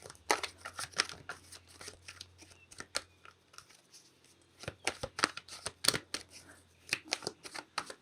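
Tarot cards are shuffled and pulled close by in repeated bursts of quick riffling snaps and soft slides, with brief pauses between bursts and a low background hum.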